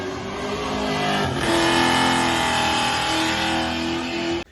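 A Chevy Caprice PP1 Police Interceptor engine revs loudly and close, a sustained engine note that rises in pitch and holds before cutting off abruptly at the end.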